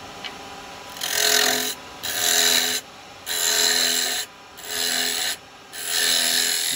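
Woodturning tool roughing out a yew bowl on a lathe, five loud, close rasping cuts of about a second each separated by short pauses, over a faint steady motor whine.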